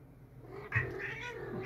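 A pet cat lets out a strained, wailing caterwaul, close by and fairly loud, starting abruptly and holding on with a rough, uneven tone.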